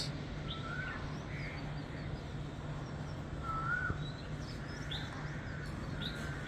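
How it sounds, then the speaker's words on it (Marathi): Scattered bird chirps and short calls at a seashore on a morning in Devgad, Konkan, with hills and windmills nearby, faint and spread over a steady low background hum. "पक्ष्यांचे आवाज"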